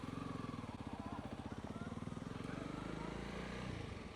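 Motorcycle engine throbbing steadily while riding on a South African road between De Rust and Willowmore, a close, continuous pulsing rumble with wind noise throughout.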